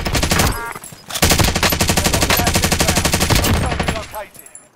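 Gunfire in the video game Call of Duty: Modern Warfare: a loud, close burst of rapid automatic fire, a short shot or two, then a long sustained stream of rounds that fades near the end.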